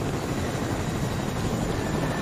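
A helicopter flies in the Fortnite video game, giving a steady whirring drone at moderate volume with no break.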